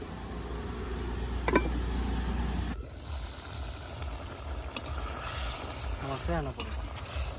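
Taro pieces being fried in spice masala in a pan, a steady sizzle with scattered stirring scrapes and clinks, softer after the first few seconds.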